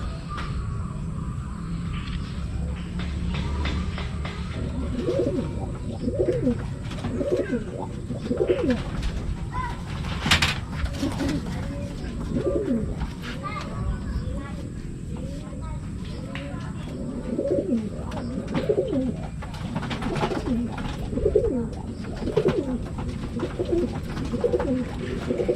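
Pigeons coo in a repeated soft rhythmic warble, close by and continuous against a steady background hum, with occasional faint rustles and voices.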